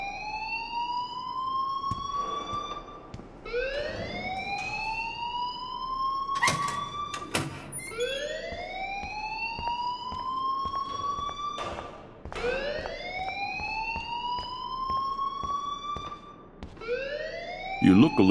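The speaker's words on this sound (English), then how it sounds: "please turn off that alarm since that's your job" Alarm in the video game Life is Strange, a loud wailing siren-like tone that sweeps upward over and over in repeating cycles, continuing steadily with voices speaking over it.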